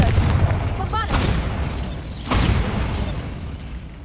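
Confringo and Bombarda spells go off in the Hogwarts Legacy video game as a pair of booming blasts, one near the one-second mark and another around two and a half seconds, over a backdrop of game sounds.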